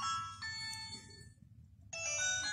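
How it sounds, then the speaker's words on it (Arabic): A mobile phone ringtone for an incoming call plays as a melodic electronic tune, pausing briefly and then resuming, faint over a low background hum with no talking. "مش بقول لك المعلم سلطان بيرن شكله عاوز بضاعه"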